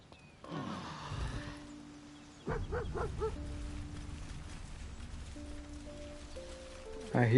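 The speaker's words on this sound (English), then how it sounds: "I hear like a dog." A dog barks in the video game Baldur's Gate 3, a short cluster of yelps near the middle set against a low ambient game soundtrack with sustained tones, moderately loud.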